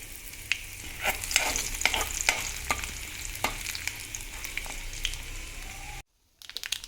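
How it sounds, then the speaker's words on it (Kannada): Tempering spices, mustard seeds among them, crackle and sizzle in hot coconut oil in a pan, a steady close fizz dotted with sharp pops before a brief drop to silence. "ಈಗ ಒಗ್ಗರಣೆ ಸಾಮಗ್ರಿ ಕರಿಬೇವು ಬಿಟ್ಟು ಉಳಿದಿದ್ದೆಲ್ಲ ಹಾಕ್ಕೊಳ್ತಾ ಇದ್ದೀನಿ"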